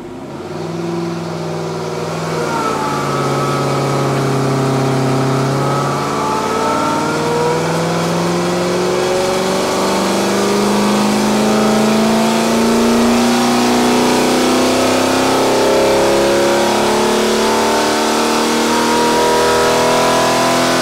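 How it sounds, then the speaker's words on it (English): A Rover V8 engine, upgraded from 3.5L to 4.6L and fitted in a Rover P6, revs steadily on a dyno, its loud, close note climbing smoothly in pitch through a long sustained pull with no talk. "We're gonna warm the engine up, do a couple of pulls, see what we get."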